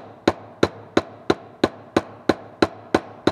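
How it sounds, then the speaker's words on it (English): Ten sharp metallic taps from the ball end of a ball peen hammer striking a metal jewelry rivet, evenly spaced about a third of a second apart, close and loud with quick ringing decay, no talking. "Now what I use is I just use the ball part of my ball peen hammer, and I'm going to actually let the weight of the hammer do all the work."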